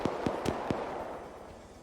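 Four sharp, evenly spaced gunshot cracks ring out in quick succession during an Arma 3 firefight, then fade into a low, rumbling ambient wash; no one speaks.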